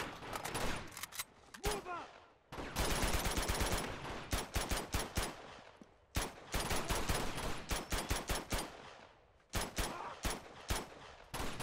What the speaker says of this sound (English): Who's shooting grenade launchers up here?